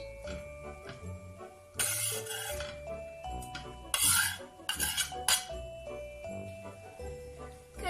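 Onions, parsley and dill being stirred in a bowl, with bursts of scraping and rubbing of a utensil against the bowl over a steady background tone, no talk.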